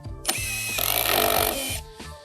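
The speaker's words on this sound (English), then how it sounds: "my impact driver, I've got my special Cortex bit, I've got my screw." An impact driver with a Cortex bit sinks a Cortex hidden-fastener screw into deck fascia board without pre-drilling: one loud, close whirring burst of about a second and a half, starting abruptly and winding down quickly, with no voices.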